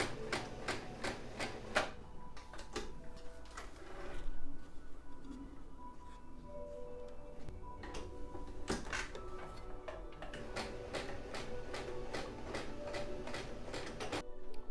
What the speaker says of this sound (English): So I'm going to sew along and stop, and then I'll sew along and stop